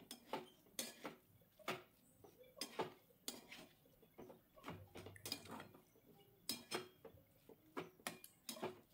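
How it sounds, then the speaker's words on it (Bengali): Egg filling with chopped coriander stirred in a pan for a Bengali chicken egg devil, a spoon scraping and clinking against the metal in repeated irregular strokes, close and fairly quiet, with no talking. "ধনেপাতা কুচি দিয়ে ভালোভাবে একটু নাড়িয়ে নেব।"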